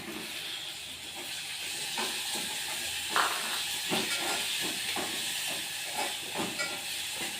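Tomato hits a hot pan in a home kitchen and sizzles with a steady hiss, punctuated by a few sharper crackles and spits.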